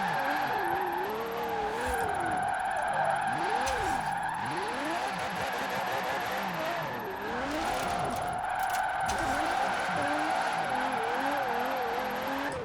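A race car being driven as a drift car, engine revving hard with pitch swooping up and down as the tires skid and squeal, loud and continuous throughout.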